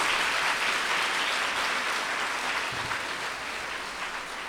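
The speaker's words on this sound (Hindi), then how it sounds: "तालियां बजाइए।" Sustained audience applause at a religious talk in an ashram, a dense steady wash of many hands clapping at once that fades a little toward the end, with no talk over it.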